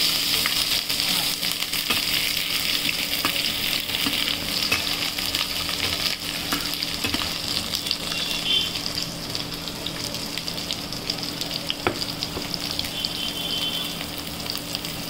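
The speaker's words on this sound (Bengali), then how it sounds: "পেঁয়াজ কুচি, মরিচ আর জিরা ফোড়ন, গোটা জিরা আর একটা তেজপাতা দিয়ে কিছুক্ষণ" Chopped onion, chilli, whole cumin and a bay leaf frying in hot oil give a steady, close, dense sizzle with occasional stirring scrapes, continuous throughout and without talk.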